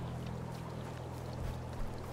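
River spring water flows steadily in Medieval Dynasty, a soft continuous trickling stream with a low hum beneath, heard up close with no talking.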